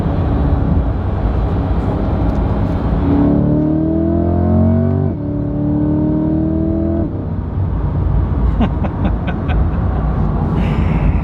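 A sports car engine with a 7-speed transmission revs hard and climbs through several gears, each shift marked by a dip before the pitch rises again, loud and close.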